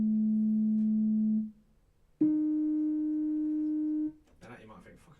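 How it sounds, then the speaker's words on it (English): Two steady synthesized sine wave tones in a row, made in Ableton Live's Operator for a bassline, the first lower and the second slightly higher, each held for a couple of seconds with a short silence between. "But yeah, that's another sine wave itself."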